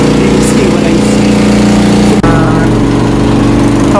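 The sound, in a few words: electric water pump running near hotel room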